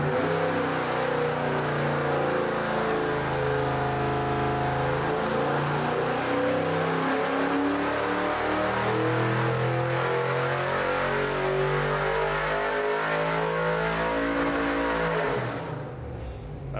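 A junkyard 5.3 LS V8 with a cam, swapped into a 1968 Chevy C10, pulls on a dyno: a loud, continuous rising roar sweeping up through the revs for about fifteen seconds before cutting off abruptly.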